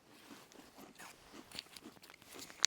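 Crunchy MRE crackers chewed up close, with a quiet series of irregular crisp crunches and bites, ending in one sharper crunch and no talking.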